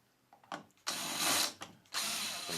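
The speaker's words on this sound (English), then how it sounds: "you want to remove the screws one by one until they all come out" Screwdriver backing screws out of a speaker baffle, close ratcheting clicks in short bursts separated by brief pauses.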